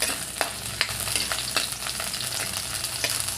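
Onion, garlic and ginger fry in oil in a pan, giving a steady close sizzle with periodic sharp scraping clicks of stirring throughout, no voices.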